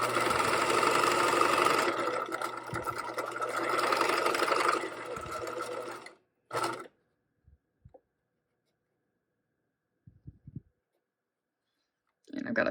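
A sewing machine stitches a fabric seam with a dense, fast mechanical clatter for about six seconds, then stops, leaving scattered light clicks and handling noises in near silence.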